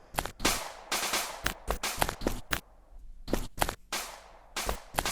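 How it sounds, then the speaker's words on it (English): Video game gunshots fire in uneven bursts of sharp, loud cracks with short gaps between them, close and dry against a quiet background, no speech. "You can also shoot at the enemies."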